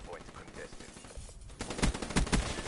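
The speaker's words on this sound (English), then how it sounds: "Got Astra Vaderix trying to cover with the HVK, but outgunned there with a headshot from Fear." HVK rifle gunfire in Black Ops 3 during a tournament match, a burst of rapid sharp shots that starts midway and rings out over the background game audio.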